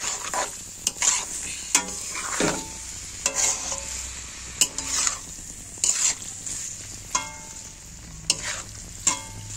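Chowmein with salt and chopped green chillies frying in a pan, stirred hard: a soft background sizzle broken by sharp, irregular scrapes and clanks of a spatula against the pan, close up, with no voices.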